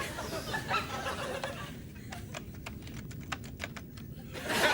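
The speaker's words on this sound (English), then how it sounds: "We were typing messages to each other" Quick, irregular keyboard typing with close, crisp key clicks, following a stretch of indistinct room noise and faint voices.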